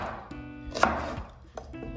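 A knife coarsely chops an onion on a cutting board, giving a few distinct close thuds of the blade striking the board over about two seconds.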